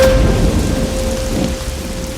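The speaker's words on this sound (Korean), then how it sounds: "비가 엄청 쏟아져" Heavy rain pours down at night in a steady, dense, loud wash that fills the whole clip.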